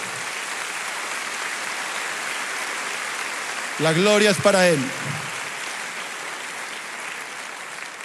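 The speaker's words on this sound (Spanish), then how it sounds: "Dale un aplauso grande al Señor." A church congregation applauds in steady, dense clapping throughout, with someone speaking briefly over the applause midway.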